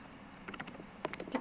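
Quick bursts of keystrokes on a computer keyboard as a command is typed into a terminal, a few light clicks in two short clusters, close and fairly quiet.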